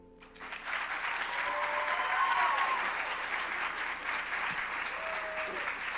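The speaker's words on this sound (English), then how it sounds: "Let's have another round of applause for contestant number 5" Applause from a pageant audience for a contestant at a hospitality pageant, rising quickly from quiet into full, sustained clapping that stays strong and close, with a faint whistle or cheer riding on top.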